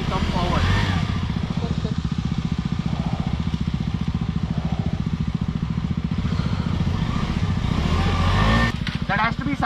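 An off-road motorcycle engine revs hard and steadily while stuck in mud on a hardcore trail, a close, loud, continuous pulsing drone that surges near the end, with people talking over it.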